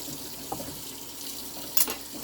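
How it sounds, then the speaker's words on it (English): A kitchen knife rinsed under a running tap before Korean BBQ prep at home, steady water hiss with a couple of brief splashy bursts where the blade meets the stream. "But first, wash my knife first."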